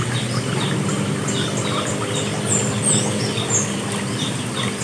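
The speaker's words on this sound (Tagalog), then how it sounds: "Pinapasok na po niya yung mga pabo at saka pato dun sa loob." Ducks and turkeys on a farm being herded indoors, a steady dense chorus of quacking and chirping calls close by, with no talk over it.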